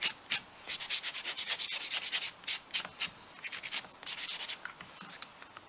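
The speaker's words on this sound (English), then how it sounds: "And you just buffing. Make sure it's smooth the nail out." Nail buffer rubbed quickly back and forth over a fingernail, a close, soft scratchy swishing in rapid repeated strokes with brief pauses.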